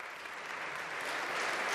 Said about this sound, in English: we should all clap for our firefighters